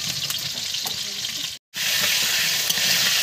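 Potatoes fry in a pan, a constant dense sizzle and crackle with a brief total cutout midway before the sizzling resumes at full strength.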